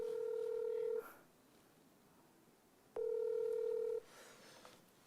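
Two long tones of an unanswered telephone ringback, each lasting about a second and separated by a two-second gap of quiet line hiss, heard clearly with no one speaking.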